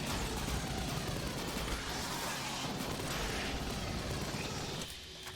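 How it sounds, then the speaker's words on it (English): Pulse rifle in the sci-fi shooter Aliens Fireteam ELITE firing a dense, loud, sustained automatic burst with clattering mechanical texture, stopping abruptly near the end. "Aliens Fireteam ELITE features one of sci-fi's most iconic rifle, the pulse rifle,"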